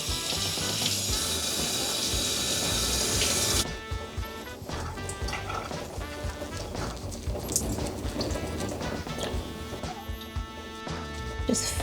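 Warm tap water runs steadily while a tiny poodle is rinsed during grooming. The stream is loud and hissing at first, then softer splashing continues under light background noise.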